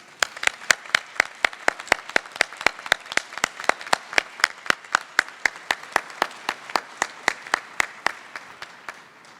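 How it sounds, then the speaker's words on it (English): Applause at a mathematics congress award ceremony in Barranquilla, Colombia, made of sharp, evenly spaced claps for about nine seconds. It sounds like a few nearby hands clapping in a steady rhythm, close and clear, fading slightly at the end. "Let us now give a big round of applause to Enrique Burstein."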